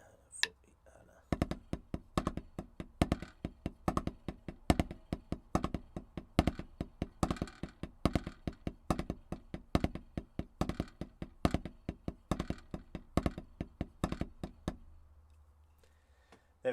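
Rapid, continuous snare drum sticking of the single dragadiddle rudiment at a fast tempo, dense flams and double strokes in a steady repeating pattern, close and fairly loud, then stopping abruptly.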